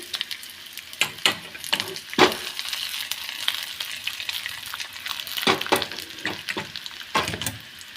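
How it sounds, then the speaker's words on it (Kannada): Urad dal and broken dry red chillies sizzle and crackle in hot oil in a pan for a South Indian puliogare tempering, a steady close fry broken by sharp bursts and stirring scrapes, with no talking. "ಆಮೇಲೆ ಉದ್ದಿನಬೇಳೆ ಹಾಕಿ ನೆಕ್ಸ್ಟು ಒಂದೆರಡು ಒಣಮೆಣಸಿಕಾಯನ್ನು ಕೂಡ ಮುರಿದ್ಬಿಟ್ಟು ಹಾಕಿ"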